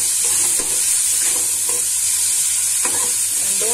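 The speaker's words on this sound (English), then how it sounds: "saute it" Vegetables for momo filling are sautéed in a pan over a thin gas flame, giving a steady loud sizzle with occasional soft stirring scrapes throughout.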